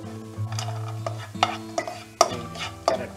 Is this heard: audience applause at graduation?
no